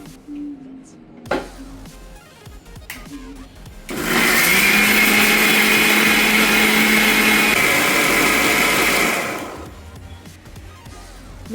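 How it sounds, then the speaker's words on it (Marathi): An electric mixer grinder grinds chillies with water, a loud steady whirring roar running for about five seconds between quieter kitchen sounds. "आता ही मिक्सराक लावून मिरसांग वाटून घेवपाची."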